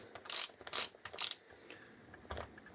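A lug nut being put back on a Traxxas Slash VXL 2WD RC car wheel makes three close, quick bursts of ratcheting clicks, followed by a fainter fourth click after a pause.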